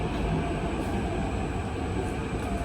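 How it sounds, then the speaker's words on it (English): A Singapore MRT train runs toward Gardens by the Bay, heard from on board as a steady, close cabin rumble with a faint high whine over it. "I've reboarded the train and now I'm going towards Gardens by the Bay"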